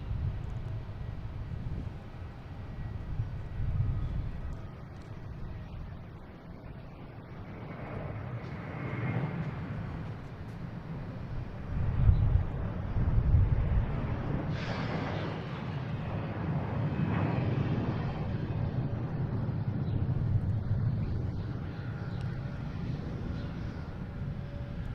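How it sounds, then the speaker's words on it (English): A JetBlue Airbus A321 airliner bound for Tampa rumbles at Boston Logan Airport, a low, moderately faint engine roar that swells and fades gently across the span, with some wind buffeting and a brief thump midway. "we got a JetBlue A321 heading to Tampa"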